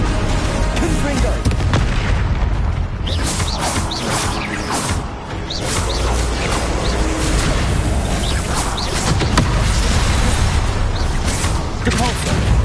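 Confringo blasting spells go off again and again during a Hogwarts Legacy duel, a rapid run of loud booms and crackling bursts. A voice speaks throughout the continuous combat noise.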